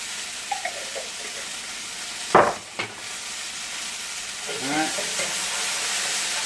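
Garlic cloves sizzle in hot oil in a cooking pan while cod in tomato sauce is prepared; a steady frying hiss runs throughout, broken by a couple of brief clinks near the middle, with no talk.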